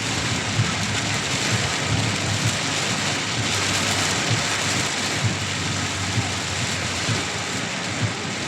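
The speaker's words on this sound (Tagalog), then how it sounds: "Ang lakas ng ulan eh." Heavy rain pours steadily in a dense, unbroken hiss, drumming on surfaces close by, with a low rumble underneath and no voices.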